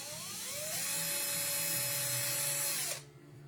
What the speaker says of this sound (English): I'm using my drill because I can't find my hole borer